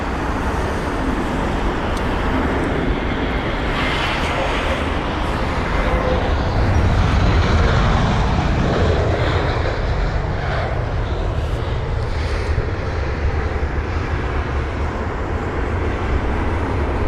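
A Boeing 777 comes in to land at London Heathrow, a steady loud broadband jet roar that holds for the whole stretch and swells slightly in the middle, with a low rumble underneath and no voices.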